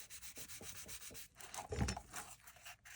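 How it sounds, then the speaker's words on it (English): Tape is pressed and smoothed onto a plastic trash bag parachute, making close, quiet rubbing strokes in a loose repeated rhythm with one firmer press partway through. "And then you get some tape like this, and you simply put it right there"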